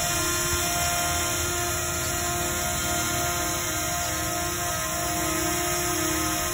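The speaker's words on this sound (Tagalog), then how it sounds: "So ngayon ay test na natin kung lumilipad nga ba ang drone na ito." A DJI Mini 2 SE drone flies with a newly replaced right arm, its propellers giving a steady, loud, high-pitched whine and buzz that stays constant throughout, close to the listener and with no talking.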